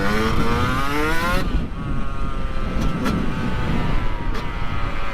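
A Yamaha YZ125 two-stroke dirt bike rides on mountain gravel, its engine loud and close with a high buzzing whine that rises and then drops as the rider eases off. Gravel crunches and wind rush run beneath it throughout.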